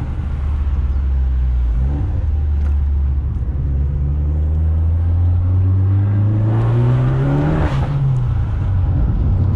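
A tuned Abarth 695 hatchback engine revs up loud and close, its pitch climbing steadily through each gear and then dropping sharply at a shift before pulling again.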